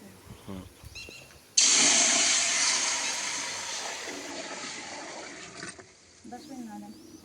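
Water poured into a large cooking pot heated with oil for cooking rice, about 10 to 12 litres, a steady rushing splash that starts abruptly, fades gradually over several seconds and stops, with brief quiet moments around it.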